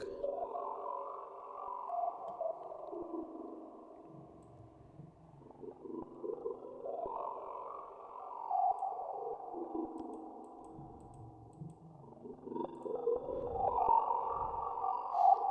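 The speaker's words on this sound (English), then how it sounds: "the second LFO is moving the cutoff, making these little gated patterns" A warbling synthesized tone made in Serum pulses in choppy, gated patterns as an LFO sweeps the filter cutoff up and down, giving a strange, alien bubbling texture.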